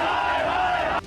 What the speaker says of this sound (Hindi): आरोप लगाते हुए नारेबाजी करने लगे